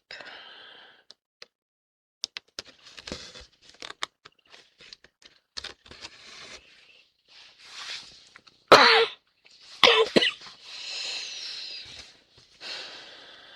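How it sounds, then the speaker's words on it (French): Scattered short coughs and throat sounds, a few sharp bursts standing out, with gaps of quiet between them. "Ça m'agace de tousser."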